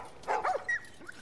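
Dogs barking in the video game The Last of Us, a short burst of several sharp, close barks and yips in quick succession, fairly loud, with no talk over them.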